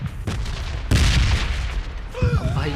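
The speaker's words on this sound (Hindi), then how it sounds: "रेड जोन के भाई बम गिरने लगे" Red zone bombs go off in PUBG Mobile Lite, with heavy booms and blasts landing in quick succession, loud and close, over game noise. A voice cuts in near the end.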